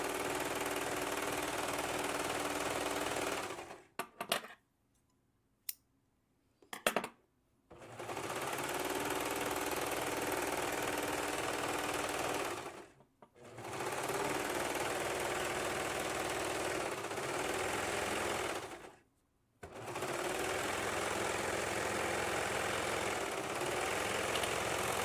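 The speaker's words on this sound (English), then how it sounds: "I'm going to serge the hem before I close up that last seam" A serger overlocking machine hums loudly as it stitches a hem on a faux cowl T-top, running in long continuous bursts broken by several short pauses.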